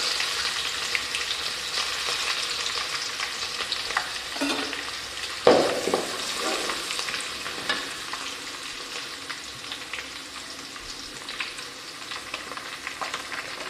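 Crushed garlic and curry leaves sizzle in hot oil with mustard seeds during tempering for tomato thokku, a steady frying hiss with a brief louder burst as ingredients drop in, close and with no talk.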